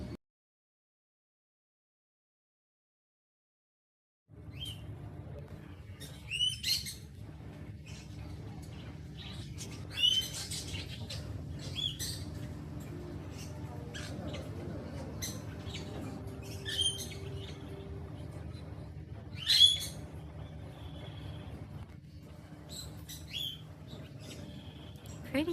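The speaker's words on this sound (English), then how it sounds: "Pretty bird. So pretty." Pet birds in an aviary give scattered sharp chirps and squawks over a low steady hum, starting after a few seconds of silence, fairly faint and irregular.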